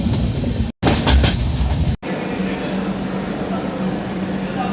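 A train on the Madgaon to Mumbai route near Thivim station in Goa rumbles steadily with rhythmic wheel clatter, loud and close, with two brief cuts early on and faint voices underneath.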